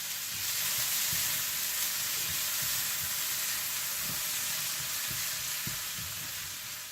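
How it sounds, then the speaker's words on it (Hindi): Onions with a little salt frying and caramelizing in hot butter, a steady close sizzle throughout with occasional soft stirring scrapes. "जैसे ही मक्खन गर्म हो जाए तो आप इसमें प्याज डाल दें और साथ ही इसमें नमक थोड़ा सा डाल दें और इन्हें अच्छी तरह से कैरेमलाइज कर लें।"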